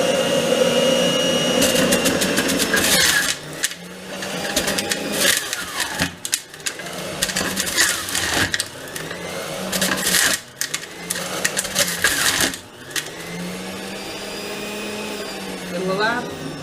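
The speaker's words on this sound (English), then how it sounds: "I'm going to turn this on and juice this up real quick." Breville centrifugal juicer running loud and whining, with the motor pitch shifting as produce is pushed through and several rising spin-up sweeps near the end.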